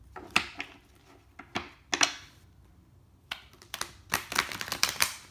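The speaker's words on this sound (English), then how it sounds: "So I'm give these one more shuffle" Tarot cards riffle and slap in quick irregular bursts, with short pauses between shuffles, close and fairly soft.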